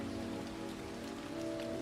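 Rain sound effect from an audiobook soundtrack: soft, steady patter of raindrops on a surface, quiet and even throughout the short stretch, with no voices.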